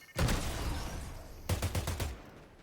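Rapid bursts of Fortnite video game gunfire, a sustained volley followed by a cluster of sharp shots, loud and close with no talking.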